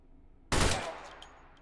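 A single sharp gunshot from a firearm in the VR shooting game Hot Dogs, Horseshoes & Hand Grenades bursts out loud and close, followed by a fading ring and faint clicks.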